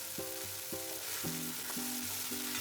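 Green onion curry sizzles steadily in a pan while a spoon stirs it in a regular rhythm, about five scraping strokes ringing out clearly over the constant frying hiss, no voices.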